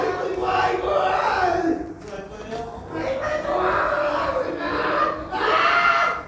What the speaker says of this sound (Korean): 지난 6월 말 시설 내부에서 비명소리가 터져나왔습니다.